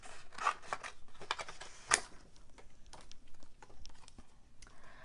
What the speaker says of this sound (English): I'm just gonna cut this by hand.